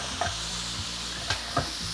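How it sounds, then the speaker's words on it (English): Green pepper and onion sauté in two tablespoons of water in a fry pan at about 350 degrees: steady, close sizzling hiss with a few soft clicks and scrapes of stirring, no voices. "add 2 tablespoons of water to a fry pan that's at around 350 degrees. See it sizzling there."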